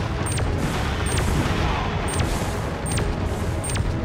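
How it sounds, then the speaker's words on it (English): Rapid gunfire from the video game Geist, dense and loud, with repeated shots firing over a constant roaring backdrop of game sound effects for several seconds and no voices. "So we just shoot him."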